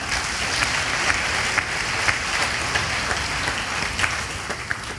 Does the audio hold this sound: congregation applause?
yes